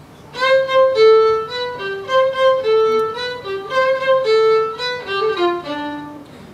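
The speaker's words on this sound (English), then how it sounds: "Now, if we went to Mexico, music would sound like this." A bright melodic instrument, like a violin or trumpet, plays a lively Mexican-style phrase of distinct notes with swells, solo and clear with nobody talking.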